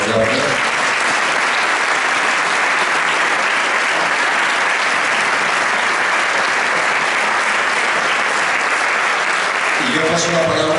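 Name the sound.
audience applause for José María Barreda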